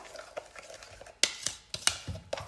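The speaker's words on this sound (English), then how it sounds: "I'm just stirring in our shredded apple" A utensil stirs shredded apple into an oat flour cookie mixture in a bowl, giving soft scraping swishes punctuated by several sharp clinks against the bowl, close and fairly quiet.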